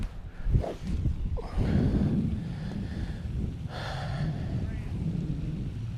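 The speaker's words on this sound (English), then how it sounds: "Right now the wind feels a really strong left to right." Strong gusting wind sweeps across an uphill golf course, buffeting the microphone in a steady roar with brief breathy bursts, heard on its own without speech.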